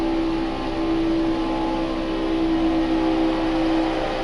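A race car engine in a PS4 racing game holds a loud, steady high-pitched drone on full throttle through a turn, continuous and close with no talking.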